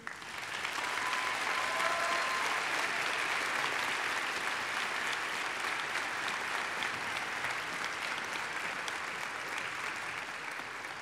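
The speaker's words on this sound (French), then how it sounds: "Applaudissons-les chaleureusement." Sustained audience applause at a university science faculty's 2018 graduation ceremony, a dense steady wash of many hands clapping for about eleven seconds, filling the hall evenly and fading only slightly toward the end.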